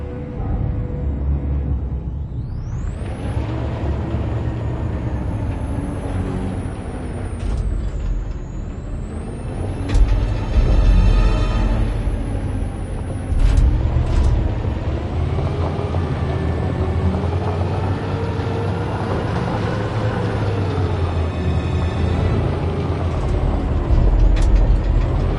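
A truck engine rumbles at low pitch in the video game Detroit: Become Human, joined by a rising whine, hissing air-brake bursts and clanking mechanical knocks over about twenty-five seconds, loud and close.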